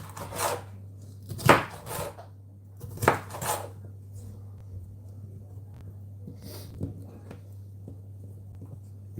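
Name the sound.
knife chopping food into little squares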